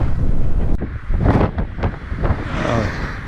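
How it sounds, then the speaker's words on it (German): Strong crosswind near a bridge in Iran buffets the microphone in loud, continuous gusts, with roaring surges rising and falling throughout and no other sounds standing out. "Zügiger Rückenwind. Das heisst, Wind von der Seite dort vorne bei der Brücke."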